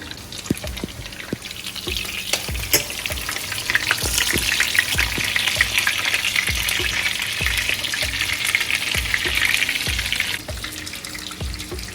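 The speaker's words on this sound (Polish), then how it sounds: "jajeczka, które zaraz będę e, smażyć tak, żeby żółtko było, słuchajcie, mięciutkie, rzadkie" Eggs fry in a pan for a soft, runny-yolk finish, giving a steady, loud sizzle and crackle throughout, dotted with small pops and scraping clicks.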